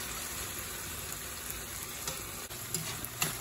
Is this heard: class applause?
no